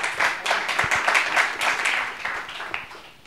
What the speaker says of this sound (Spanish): un aplauso a los cuatro también por aquí